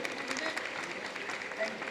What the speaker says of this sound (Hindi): एक बार इनके लिए तालियां बजा दीजिए भाई